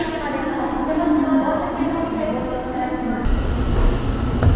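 A local train pulls into a rural station in Kyushu, Japan: a steady station hum, then a deeper rolling rumble rises near the end as the train comes in.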